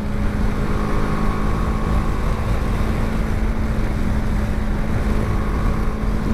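A BMW G 310 GS motorcycle ridden on a bumpy road, its engine giving a steady droning hum beneath constant wind rush at a continuous, unchanging level.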